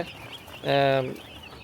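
Broiler chickens on a poultry farm give a single loud, harmonic cluck-like call, close to the listener, over a low background murmur.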